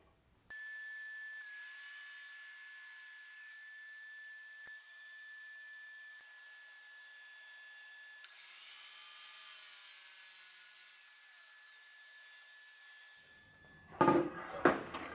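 A miter saw set to 45.5 degrees cuts wood for a stair handrail: a high, steady motor whine runs throughout, swelling twice into louder cutting passes, then ends with a few sharp clatters.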